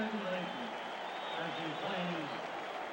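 A baseball stadium crowd at a Mariners–Yankees game applauds steadily through the seventh-inning stretch, a broad distant wash of clapping with a broadcaster's voice running over it.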